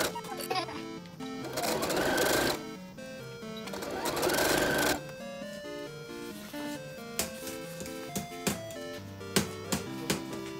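A sewing machine stitches a seam on a large unlined zipper pouch with a 1 cm seam allowance, two sustained whirring runs followed by lighter, intermittent clicks and taps.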